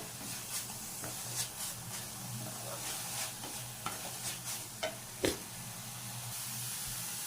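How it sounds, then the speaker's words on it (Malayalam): Beetroot thoran masala is stirred in a frying pan, with soft scraping strokes and small knocks spread irregularly over a quiet, faint sizzle, without any talking. "എന്നിട്ട് നന്നായിട്ടൊന്ന് യോജിപ്പിക്കാം"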